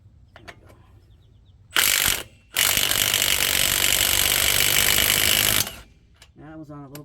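A socket wrench or impact tool loosens a car lug nut with a lug nut socket, two loud close bursts of rattling, the second lasting several seconds, separated by quiet and followed by brief talk.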